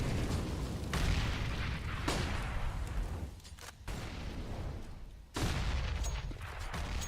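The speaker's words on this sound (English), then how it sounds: "Loads of grenades." Dense, continuous barrage of grenade explosions and gunfire fills a Counter-Strike match on a professional esports map, with sharp booms at intervals over a loud rumbling bed, no talk.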